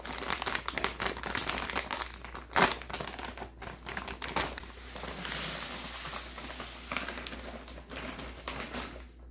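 Organic cane sugar is poured from a 10-pound paper bag into a 5-gallon bucket, heard nearby as a soft, uneven rush of granules with crinkling bag noises and scattered rustles.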